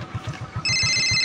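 A phone ringtone cuts in abruptly after a few soft rhythmic low thumps, then rings as a steady, bright electronic tone.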